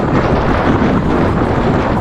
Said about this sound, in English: the south wind started to blow hard in the marina, whistling through the shrouds